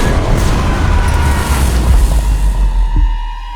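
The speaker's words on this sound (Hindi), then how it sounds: "कहा जाता है बेसिलिका के साथ साथ इसे बनाने वाला इंजीनियर ओरबन भी इसके फटने से फौत हो गया" A giant Ottoman bronze siege cannon, the Basilica, bursting from cracks in its overheated metal, rendered as a loud, sustained rumbling boom that rolls on and slowly fades.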